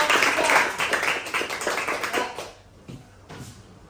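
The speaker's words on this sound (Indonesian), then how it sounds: "Ya, beri aplaus buat kelompok 3." A classroom audience claps for a presentation group, a burst of applause that fades out quickly. A few scattered claps are left at the end.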